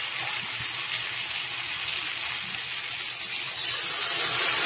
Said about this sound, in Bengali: জল গরম করে রেখেছিলাম, জল দিয়ে দিলাম।